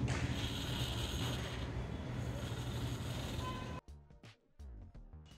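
A small 10 RPM gear motor rotating the base of an Arduino-driven DIY rocket launcher gives a faint, steady mechanical whir with a ratcheting quality, then stops abruptly and is followed by a few soft clicks.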